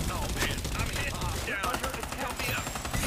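Dense, rapid automatic fire from a deployed turret in the battle royale shooter Farlight 84, a loud sustained rattle of shots carrying on through the whole stretch with only brief gaps in the mix.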